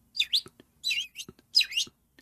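Birds chirp and tweet in three bright, close bursts of quick twittering notes separated by short pauses, with no other sounds.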